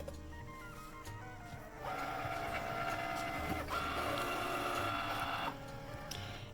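A Cricut cutting machine runs while cutting a paper flower, its motors whirring and buzzing in shifting tones and steady stretches, close and alone.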